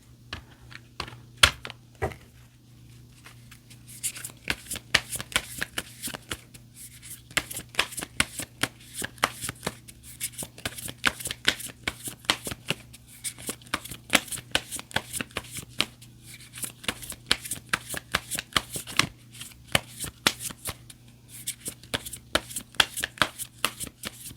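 Tarot cards shuffled and drawn by hand, rapid papery riffling bursts and flicks repeating close up, with a brief quiet pause between rounds.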